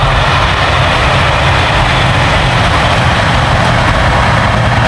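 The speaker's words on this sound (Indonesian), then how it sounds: "Kereta lewat teman-teman." An electric train rolls past near a village in Japan with a loud, steady broadband rumble that holds evenly throughout, close by and with no voices.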